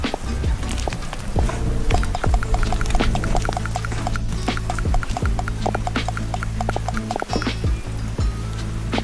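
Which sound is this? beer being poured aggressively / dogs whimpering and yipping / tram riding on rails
beer being poured aggressively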